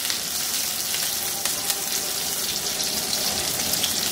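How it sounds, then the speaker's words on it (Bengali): Thick-cut onion frying in hot oil for eggplant fritters, a steady, dense sizzle close by that holds without pause from start to end, with no talking. "একটু ভেজে নিই পেঁয়াজটাকে"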